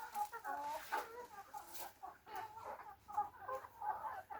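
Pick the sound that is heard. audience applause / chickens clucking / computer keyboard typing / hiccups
chickens clucking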